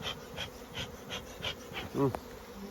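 Honeybees buzz close by in soft repeated swells as they are cleared from a hive, a faint huff-like sound near the end.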